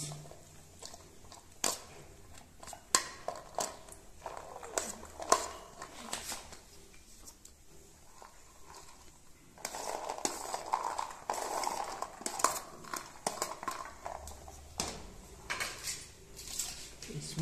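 Vegetable pakora batter is stirred in a bowl, with scraping, wet squelching and utensil clacks coming in irregular bursts, close up and moderately loud, busier in the second half.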